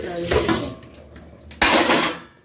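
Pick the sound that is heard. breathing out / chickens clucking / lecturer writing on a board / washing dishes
washing dishes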